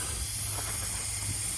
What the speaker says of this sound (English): I'm gonna try to spray a little bit more around it.